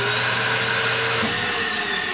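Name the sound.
Dirt Devil CV1500 RV central vacuum running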